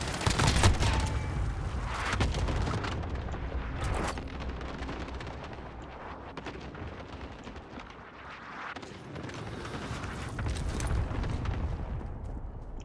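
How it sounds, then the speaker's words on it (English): Cluster strike explosions in Call of Duty Warzone roll in as a dense barrage of booms and cracking blasts, strongest at the start, fading midway and then swelling again. "Cluster strike away."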